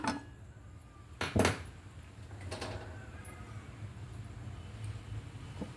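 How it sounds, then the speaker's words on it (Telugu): A metal wok clanks down onto a gas stove in a home kitchen, with a sharp double knock early on and light handling noises afterward. A steady low hum continues underneath, and no one speaks. "స్టవ్ పైన బాణలు పెట్టి"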